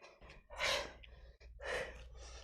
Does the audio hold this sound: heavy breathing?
yes